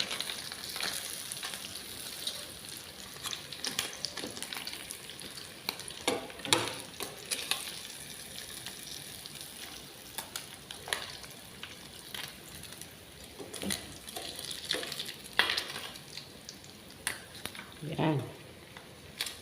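Fish frying in a pan for lunch, a steady oily sizzle and crackle running throughout with occasional stirring scrapes and louder spatter bursts, a voice talking over it now and then.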